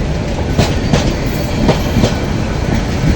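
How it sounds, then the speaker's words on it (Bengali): A Bangladeshi train rolls past close by, its wheels clacking in a regular rhythm over the rails amid a continuous loud rumble. "এখন প্রায় তিন চব্বিশ ঘন্টায় রেলের আওয়াজ শুনতে পাই"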